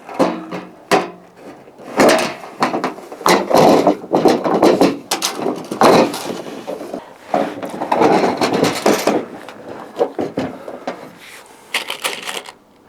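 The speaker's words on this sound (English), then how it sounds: "And then put this together and put the screws in." Screws being driven into the frame of a Sojag Mykonos gazebo during assembly, a busy run of clicking, ratcheting and knocking on the frame in uneven bursts, close and loud.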